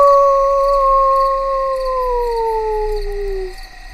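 A voice imitates a werewolf howl: one long, loud, sustained tone that slowly slides downward over about three and a half seconds, then fades out.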